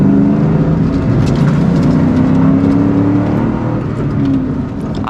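Ford Mustang Cobra engine rumbling and revving steadily while driving on a twisty road, a loud, continuous low drone rising and falling slightly, with no talk.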